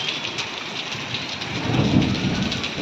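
Heavy rain with hail in a village hisses as a dense, continuous downpour close by, with the patter swelling toward the middle and no voices.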